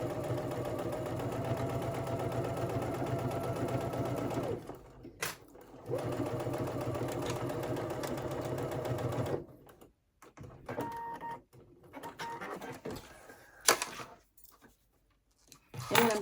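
A sewing machine stitches a seam on a beauty bag with a fast, steady mechanical whir that runs for several seconds, pauses, resumes, and then gives way to scattered clicks and handling noises.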